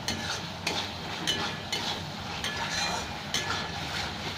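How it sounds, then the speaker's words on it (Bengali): Hot water hits spiced masala frying in oil, giving a continuous hiss and sizzle with repeated scraping stirs in an uneven rhythm, moderately close but fairly quiet. "এবার আমি গরম জলটা দিয়ে দেবো"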